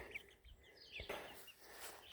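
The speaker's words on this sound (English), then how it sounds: "Chickens, they're back again." Chickens clucking in short, soft bursts on a farm, fairly faint with a few sharper calls scattered through the brief stretch.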